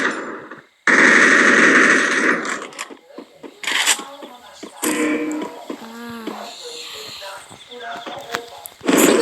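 Weapon fire in a video game comes in a loud sustained burst of rapid automatic shots, followed by scattered single shots and game effects, with a voice talking in between.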